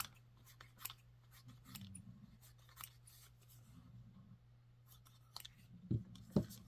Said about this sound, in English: So, I'm just going to cut a bunch of pieces.